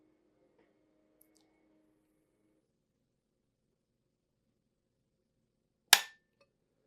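A single sharp metallic snap from the trigger of a Savage B Mag rifle breaking during a trigger-pull weight test, close and crisp, with near silence before and after.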